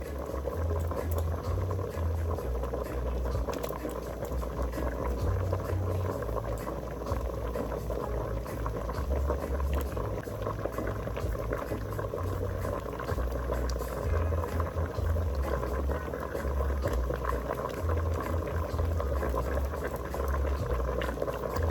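Curry crab simmering in coconut milk in a Jamaican-style pot, a steady low bubbling boil that continues without pause, close and moderately loud, with no talking.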